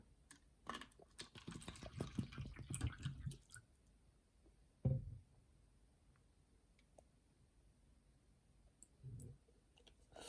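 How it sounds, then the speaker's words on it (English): Nirvana HMB Spring water pours into a container with splashing and dripping for about three seconds, followed by a soft knock and a quiet pause. "Let's pour some water in."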